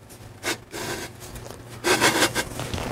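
Flathead 80 engine cases being lapped together with oil, a scraping rub of metal on metal pushed back and forth in a few short strokes, close by with no talking.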